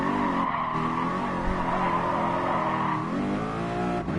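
In the PS4 game Gran Turismo Sport, a race car runs off the track with a steady high engine whine and a sustained tire-skid hiss. The sound runs continuously for about four seconds with no talk.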